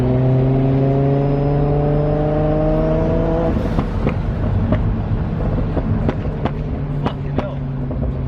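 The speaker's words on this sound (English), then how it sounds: "Ah, it seriously rips through the gears, dude." A 620whp Toyota Supra with a 2JZ engine and screamer pipe accelerates hard, its loud rising engine note climbing through the gears with sharp shifts and crackles, close and dominant.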